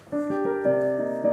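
A piano plays a short, lilting melody, with several clear notes in quick succession over about a second, heard close and alone.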